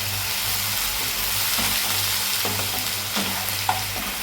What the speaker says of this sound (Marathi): त्याला चांगला आता भाजून घेऊया। टोमॅटोची पेस्ट ही चांगली हलवून घ्यायची।